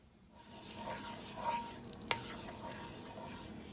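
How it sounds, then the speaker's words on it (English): Heavy cream and half and half going into an iron skillet for seafood fettuccine Alfredo, a gentle rising sizzle and stirring with a sharp metallic clink partway through, no talking. "I'm gonna add probably a couple of cups of that to this iron skillet."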